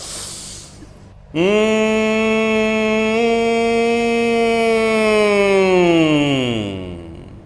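One person hums on the exhale during Bhramari yoga breathing: a single loud, steady hum of about six seconds that begins abruptly and sags in pitch before fading.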